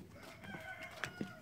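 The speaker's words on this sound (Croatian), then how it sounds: "Čuju kokoške, pa pa pa pa pa pa." Chickens on a sheep farm, heard as a few faint clucks and short fowl calls over quiet outdoor background, with no one speaking.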